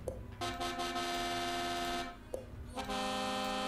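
Truck air horn on a Ford F-MAX in a truck driving video game: two sustained multi-tone blasts, the first about one and a half seconds, the second starting near the end after a short gap, loud and clear with no speech.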